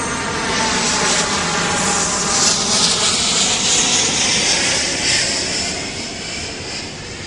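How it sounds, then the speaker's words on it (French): An airplane passing overhead, a loud broad jet roar that swells and slowly shifts in pitch before easing off, heard alone without talk. "hop, je laisse passer l'avion."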